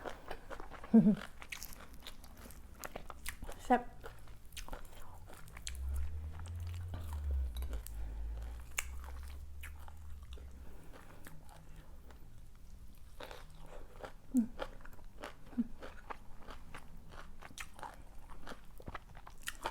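Someone eats crunchy pounded bean salad with sun-dried snakehead fish and sticky rice, giving soft, close bites and crunches scattered through a quiet stretch, with faint clinks of utensils and a few low background thumps.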